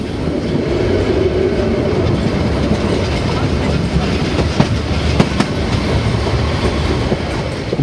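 Continuous rolling and rhythmic clickety-clack from a Selketalbahn narrow-gauge train heard up close on board, with a few sharp metallic clicks from the wheels partway through.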